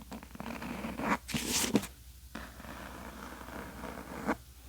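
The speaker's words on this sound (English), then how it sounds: "Doesn't that kind of sound like a zipper because of the texture on this book?" A fingernail scratches across the textured cover of a book in a quiet room, making close, soft raspy strokes that sound like a zipper, in several bursts with short pauses between them.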